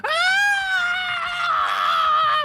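A human voice imitates a horrible scream of pain, one loud, drawn-out wailing cry held for about two and a half seconds and heard alone.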